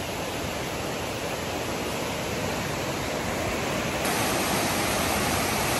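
Typhoon floodwater rushes past in a loud, constant roar of broadband noise that holds steady throughout, with nothing else heard above it.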